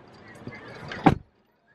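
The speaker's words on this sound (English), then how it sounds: "Close the door." A car door shuts with a single loud, close thud near the end, following a stretch of quieter background sounds and muffled activity inside a car during a school pickup.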